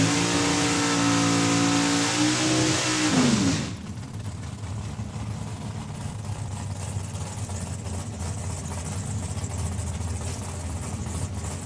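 A 2008 Bantam altered drag racing car with an 8-cylinder engine roars loudly at a drag strip, revving with a rising pitch for a few seconds before dropping into a steady, rough rumble that holds to the end.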